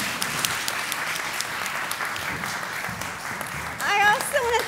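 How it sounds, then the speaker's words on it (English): An audience applauds panelists at the close of a panel discussion on deforestation- and conversion-free soy, a steady wash of many hands clapping that swells louder near the end as someone begins to talk over it. "Please give them a big round of applause"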